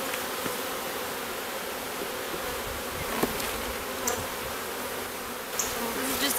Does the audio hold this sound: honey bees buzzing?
yes